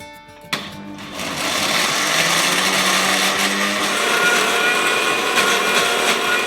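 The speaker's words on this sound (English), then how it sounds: "we're just going to put it into the blender and just blend it into a paste" After a short thump, a blender whirs up and runs steadily and loudly, grinding a thick laksa spice paste close by.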